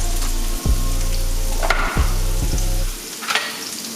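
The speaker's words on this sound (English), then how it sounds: "I'm gonna throw in some diced onions, diced pepper" Diced onions, peppers and carrots fry and get stirred in a hot pan, a steady sizzle over a low, humming drone that cuts out briefly a few times, with a louder scrape or clatter near the end.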